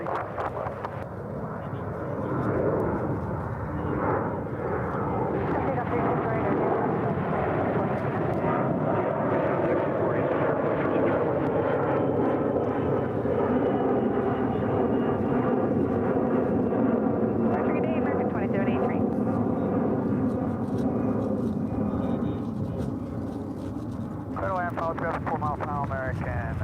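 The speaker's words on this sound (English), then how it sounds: "that was an A321 with American Airlines" American Airlines Airbus A321neo passing by, a long, steady jet rumble with a slowly shifting whine, sustained and fairly loud, while radio chatter and voices are heard over it.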